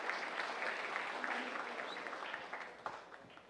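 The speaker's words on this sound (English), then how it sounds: "a round of applause to Tom's daughter" Quiet applause from a small audience at a community centennial light bulb event, a soft steady patter that slowly fades toward the end.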